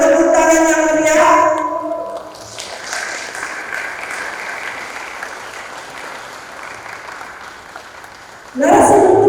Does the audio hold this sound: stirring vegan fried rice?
no